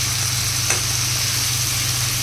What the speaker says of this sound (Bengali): সবজি থেকে কত জল বেরিয়েছে দেখেছো? আস্তে আস্তে জলটা টেনে যাবে, হোক ভাজা ভাজা হোক